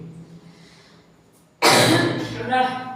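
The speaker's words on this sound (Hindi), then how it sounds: "हिचकी खांसी सब साथ में आई।" After a quiet stretch, a single sharp, loud cough bursts out close to the microphone, followed by a rough exhale.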